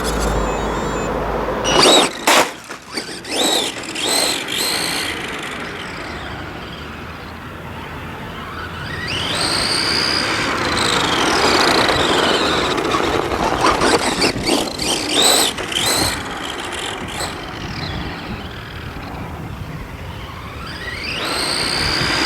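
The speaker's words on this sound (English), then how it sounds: "the first test I will do here on tarmac to look how it works" A brushless Tamiya Monster Beetle RC car drives on tarmac, its electric motor whining up and down in pitch as it speeds off and returns, with bursts of tire squeal and rolling noise.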